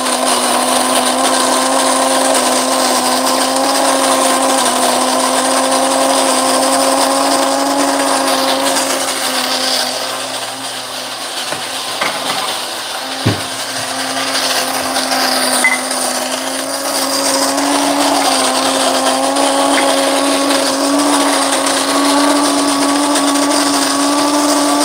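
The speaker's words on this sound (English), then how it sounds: "It actually sounds like it's grinding the coffee better." A Breville Grind and Brew coffee grinder grinds coffee beans with a steady, loud mechanical whir, briefly dipping in the middle before resuming at full strength.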